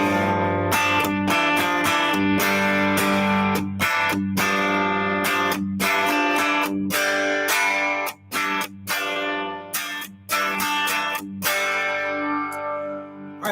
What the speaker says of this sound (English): And the riff's going to sound like this.